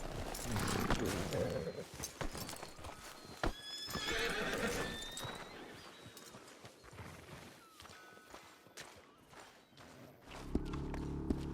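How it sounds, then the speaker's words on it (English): Horse hooves clip-clop and horses neigh and whinny nearby in Red Dead Redemption 2, with snorts and shuffling over a low ambient background. "Let's park our horses back here."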